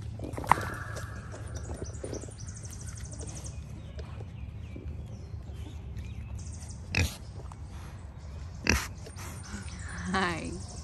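Pigs on a farm eat apples given as a morning treat, making low grunts and snuffling chews over a quiet stretch, broken by a few sharper louder sounds and a person speaking.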